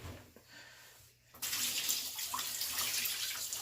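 Water gushing out of washed alpaca fleece into a bathtub, starting suddenly after a quiet moment and then running steadily and loudly close by.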